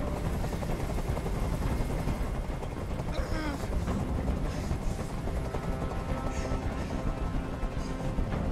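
A helicopter hovers overhead in a tense hostage standoff in the video game Detroit: Become Human, its steady rotor drone filling the scene beneath intermittent voices.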